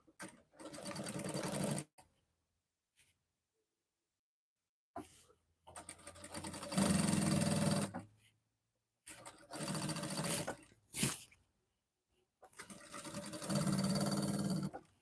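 A sewing machine stitches the crotch seam of a pair of pants in several loud, close bursts of rapid whirring, each lasting one to three seconds and separated by silent pauses.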